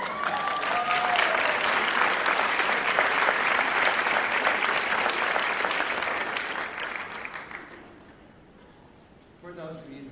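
Applause for Lisa at a school district board meeting, a dense sustained clapping from the room that stays loud for several seconds, then fades out, with brief voices starting near the end.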